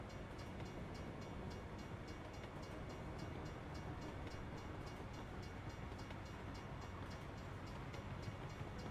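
A train passing in the American Truck Simulator video game: a steady, loud rumble of rolling rail cars with a faint rhythmic clatter, continuous throughout with no talk.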